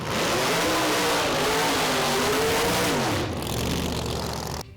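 A Promod drag racing car engine roars and revs loudly and continuously, pitch rising and falling under load, then cutting off abruptly at the end.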